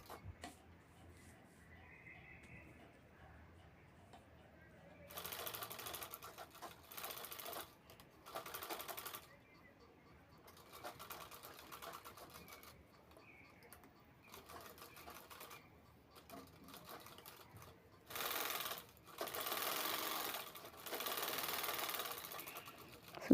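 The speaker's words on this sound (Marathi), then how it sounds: "शेवटी खालची बाजू शिवून घ्यायची आहे तळात." A sewing machine stitches the bottom seam of a small handbag in several separate bursts of rapid clatter, each a few seconds long, with quiet pauses between them and no talking.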